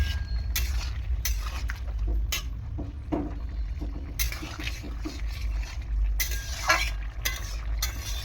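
A lid lifted from a pot of boiling potatoes: clinks and metallic knocks from the lid and pot ring out over a low steady rumble of the cooking heat.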